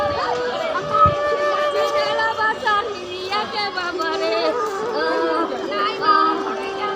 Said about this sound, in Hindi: काफ़ी भीड़ है यहाँ पर